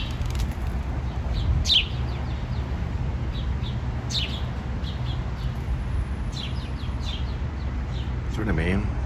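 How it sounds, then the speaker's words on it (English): Birds, ravens among them, at an outdoor table at a Jason's Deli, giving short scattered chirps and calls over a steady bed of traffic and crowd noise, with a rougher cry near the end. "a lot of times the birds or the ravens will come over and they'll actually eat the yolk"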